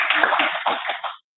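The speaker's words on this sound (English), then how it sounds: "So please give him a round of applause." A crowd applauds a veteran who leads a flag group at a political talk show event, a brief dense burst of clapping that fades out after about a second.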